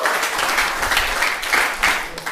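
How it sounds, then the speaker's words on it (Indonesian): A church congregation in Manado claps and applauds together, a dense burst of hand claps swelling and fading over a couple of seconds. "Tepuk tangan bagi Tuhan."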